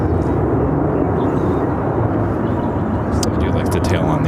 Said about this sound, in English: Airbus A319 headed to Montreal